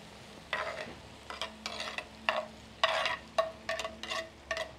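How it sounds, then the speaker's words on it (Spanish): Chopped vegetables and nopales fry in a pan while being stirred, giving a soft sizzle under a series of quick, rhythmic scraping strokes of the utensil, close and fairly quiet. "vamos a dejar pues que esté la verdura ya bien fritita"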